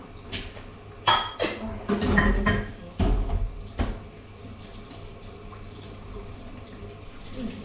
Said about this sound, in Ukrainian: я встигну перемити посудку